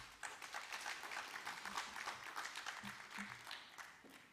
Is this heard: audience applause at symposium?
yes